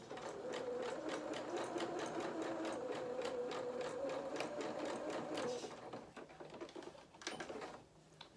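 A sewing machine zigzag-stitches a seam on a small pair of culottes, rattling rapidly and steadily for several seconds before slowing, stopping, and giving a few short bursts.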